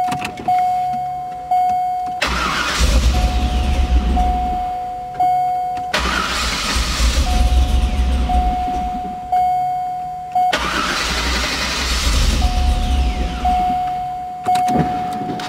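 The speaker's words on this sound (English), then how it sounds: "by cranking the car over, the car will fire. It'll rev up a little bit, but of course stall out." A GM Gen III LSx V8 ('97–'04) under idle tuning cranks, fires, revs briefly and stalls, three times in a row. Each cycle is a whirring crank followed by a loud rumbling burst that dies away, with a steady tone sounding between attempts.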